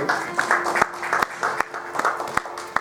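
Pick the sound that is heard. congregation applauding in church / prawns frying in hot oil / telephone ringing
congregation applauding in church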